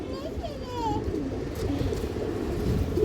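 Pigeons coo softly at close range, a few low warbling calls over a background murmur of people talking.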